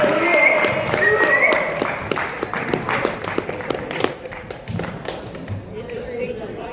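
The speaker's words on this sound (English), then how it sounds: "give me a round of applause" Applause as a performer is welcomed onto a small stage for an onstage conversation, sparse close claps and taps fading over several seconds while people talk and footsteps thud.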